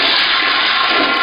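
A toilet flushes loudly up close as the tank drains, a continuous rushing gush of water.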